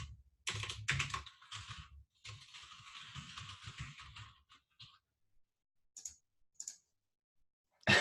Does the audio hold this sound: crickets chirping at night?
no